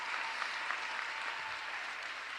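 A crowd applauds district attorney Larry Krasner at the Philadelphia mayor's State of the City address, a steady, dense wash of clapping lasting the whole moment with no voices over it.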